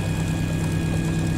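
A Stormworks video game helicopter drones steadily, its engine and rotor making an even, loud, low hum with a faint whine and no variation.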